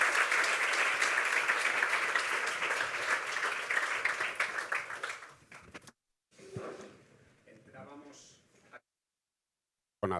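Audience applause fills a hall at a talk on AI and democracy, dense and steady at first, then thinning and stopping before a voice speaks briefly.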